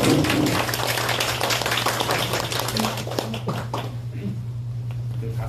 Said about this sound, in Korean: 다시 한번 저 두 분 발표자님께 박수 한번